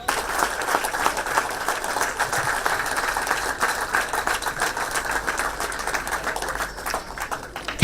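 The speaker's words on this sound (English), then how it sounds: "I appreciate if we give our Chief Minister a standing ovation with warm round of applause." A large audience at a formal gathering of the India Islamic Cultural Centre in New Delhi rises in a standing ovation for the Chief Minister, sustained loud clapping rolling evenly for several seconds without speech.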